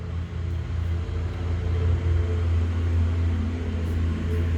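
Cars passing on a road just outside a house in a rural setting, a steady low rumble of traffic that swells and eases continuously throughout, fairly close and moderately loud with no talk.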